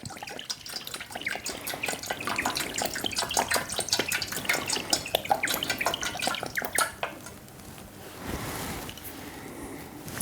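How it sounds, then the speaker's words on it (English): Worcestershire sauce glugs out of a bottle in a run of quick, wet, irregular pours up close, with liquid splashing, then a brief softer gurgle near the end; no one speaks. "Worcestershire sauce doesn't come out of the bottle very quick. So there's going to be a few glugs."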